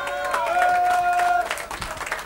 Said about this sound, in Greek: Λοιπόν, χειροκρότημα.